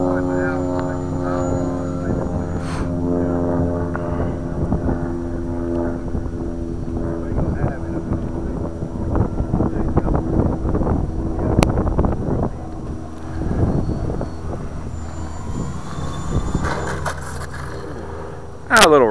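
A Durafly Junior 1100 RC plane flies with a steady propeller drone and shifting tone, mixed with wind buffeting on the microphone while people talk over it.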